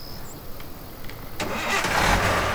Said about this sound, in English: Start the engine, drive back over here.